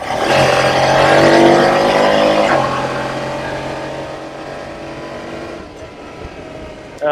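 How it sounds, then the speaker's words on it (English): A 2019 Honda Pioneer 700-4 side-by-side UTV engine revs hard under full throttle, climbing in pitch for a few seconds before easing off to a steadier drone. "we're gonna hit some full throttle here, see how it sounds"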